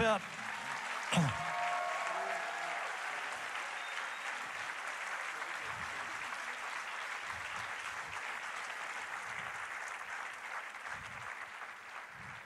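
Audience applause at a peace concert in Mulhouse, sustained clapping from a crowd that swells after a brief cry and continues steadily at moderate loudness, with a few faint voices underneath.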